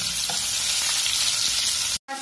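Cumin seeds and finely chopped onions hitting hot oil for a ridge gourd sesame curry, a dense, even crackling sizzle up close that cuts out abruptly near the end, no talking.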